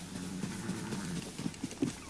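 Horse hooves clip-clopping in the video game Zelda Tears of the Kingdom, a quick series of soft thuds at a trotting rhythm over a steady background hum.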